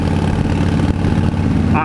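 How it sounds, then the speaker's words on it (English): Harley-Davidson Fat Bob motorcycle with near straight-pipe exhaust, its engine rumbling loud and steady close by throughout, with a brief higher tone near the end. "this is as loud as my bike is going to get. They're basically straight pipes."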